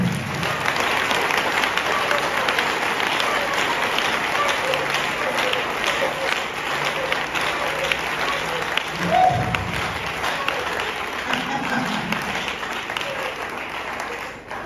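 A church congregation applauding during a worship service, sustained loud, dense clapping from a large crowd filling the room, with voices and cheering mixed in throughout.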